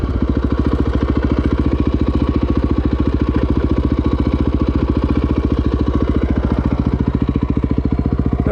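A 2011 KTM 450 EXC single-cylinder motorcycle idles at about 1700 RPM, with a close, loud, evenly spaced thumping pulse that stays steady throughout.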